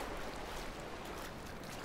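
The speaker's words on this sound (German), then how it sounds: "Gehen wir durchs Wasser." Footsteps wade through water in the video game Dear Esther, a dense continuous splashing and sloshing wash that stays close and even throughout the short stretch, with no voices.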